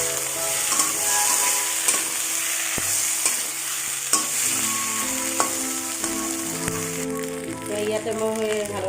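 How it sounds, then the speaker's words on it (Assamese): Potatoes cut into long strips fry with pointed gourd in a pan, crackling and hissing steadily while a utensil stirs and knocks against the pan in irregular clatters, close by. "মই ইয়াতে আলু দি দিম।"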